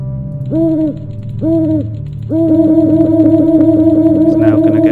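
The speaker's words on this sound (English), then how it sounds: "Okay, give that to the owl." Owl hooting in the video game Rusty Lake: Paradise: two separate hoots, then a steady rapid run of repeated hoots over a low electronic hum, clear and fairly loud with no talking.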